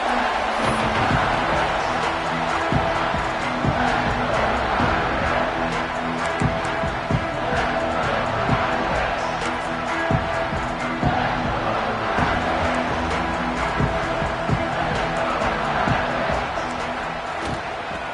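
A stadium crowd in a college football video game roars steadily throughout, a dense, continuous wash of cheering with thuds and game sounds, loud and sustained.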